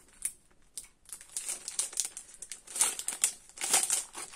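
Plastic packaging around craft stencils being opened: irregular bursts of crisp crinkling and rustling close to the microphone, growing busier toward the end, with no talking.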